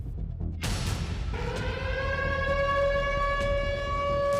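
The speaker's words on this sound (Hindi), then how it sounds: "यूक्रेन में खतरे का सायरन गूंजते ही" A loud air raid warning siren in Ukraine wails steadily during an attack, its rising tone holding over a noisy background without any voices.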